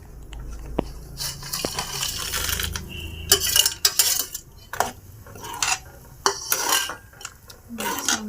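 Peanut bhajiya dropped into a metal cooking pot, with clinking and scraping of a spoon against the pot in irregular bursts, plus small knocks and stirring clatter, close and moderately loud.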